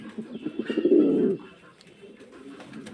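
Roman Gaal pigeons at a pigeon farm give a close, loud burst of rolling coos, then fainter cooing and soft bird noises continue in the background.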